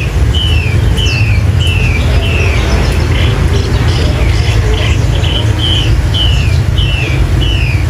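A Chinese hwamei songbird from the Cao Bằng and Lạng Sơn area sings a steady series of short, repeated whistled phrases against a constant background hiss and low rumble.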